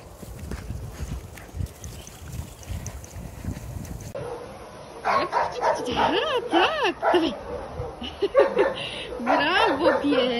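A dog gives a run of high, whimpering yips and short barks, close to the microphone, while a person talks over it.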